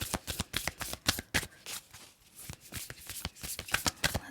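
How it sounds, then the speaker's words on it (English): Tarot cards are shuffled and drawn by hand in a rapid run of crisp riffling snaps and flicks, close and fairly loud, with a brief lull midway before the quick card sounds pick up again. "Let's pull one final card."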